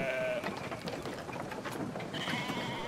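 A sheep bleats in the video game Brothers: A Tale of Two Sons, a few wavering cries over steady game ambience and rustling.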